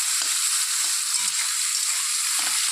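Shrimp frying lightly in hot oil, a continuous bright sizzle and crackle, loud and close, with faint stirring taps underneath and no voices.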